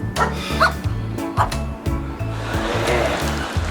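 A pet dog barks in several sharp bow-wow bursts with short yips, close and loud, spaced irregularly over a steady low hum.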